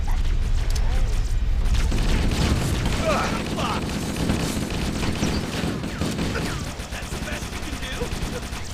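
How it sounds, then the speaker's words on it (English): Needler weapon firing in the video game Halo VR: a dense, loud stream of rapid shots and impacts mixed with busy combat effects, easing slightly toward the end. "see if we can get close enough to use the needler"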